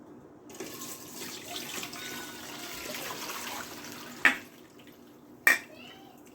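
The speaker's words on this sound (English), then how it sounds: "I'm going to get a mesh strainer, and we're going to strain this out" Fire cider liquid pours through a mesh strainer with a steady close splashing trickle, followed by two sharp clinks of a jar or weight.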